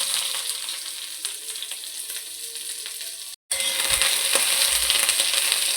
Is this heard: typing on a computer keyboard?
no